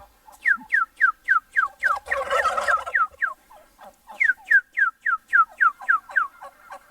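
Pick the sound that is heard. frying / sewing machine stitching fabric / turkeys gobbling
turkeys gobbling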